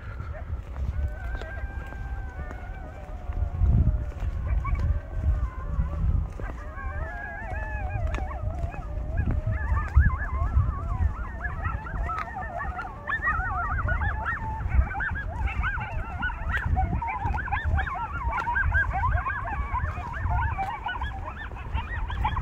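A dog outdoors behind a building barks and howls with wavering cries at moderate distance, continuing over a constant low rumble of background noise.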